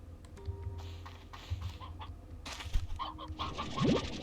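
Chickens cluck and squawk in the video game Slime Rancher 2, short scattered calls over soft game ambience, with a brief rising chirp near the end.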